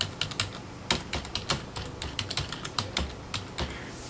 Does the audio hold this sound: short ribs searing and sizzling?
no